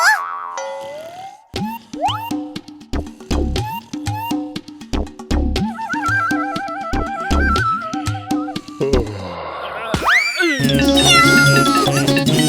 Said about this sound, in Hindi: यहाँ बिल्ली है, कोई बिल्ली है।